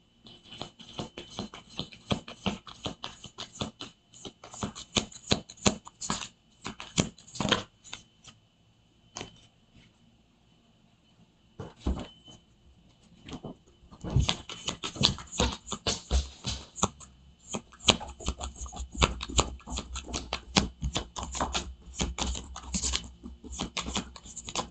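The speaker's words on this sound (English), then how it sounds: "these are weird to shuffle. I like this deck, but they're weird to shuffle" A deck of thick cardboard cards being shuffled over and over, bursts of riffling and flicking patter with short pauses between rounds, fairly close and moderately loud.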